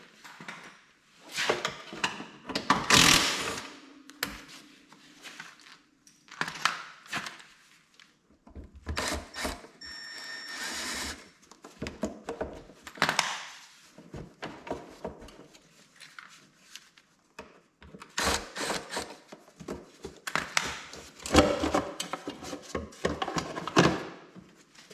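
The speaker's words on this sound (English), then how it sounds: "First thing I'm going to do is take this clutch cover off." Metal clanks, scrapes and rattles of tools come in irregular bursts while the clutch cover is removed from a Polaris Trail Boss 330 ATV, with quiet pauses between the clusters of clatter.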